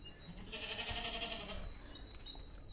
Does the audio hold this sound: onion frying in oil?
no